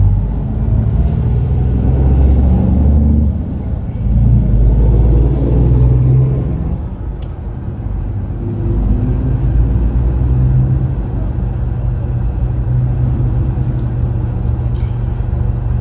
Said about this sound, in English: as you can see, we're having some traffic today